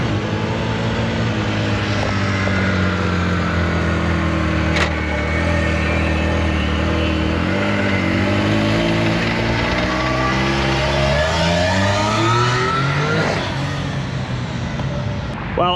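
A Can-Am Maverick R side-by-side starts up and revs, its engine droning loud and close throughout, with the pitch rising and falling through several throttle sweeps.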